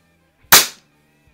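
A single sharp shot from a Weihrauch HW50S spring air rifle fitted with a peep sight, a loud crack that quickly decays, heard alone in a quiet setting.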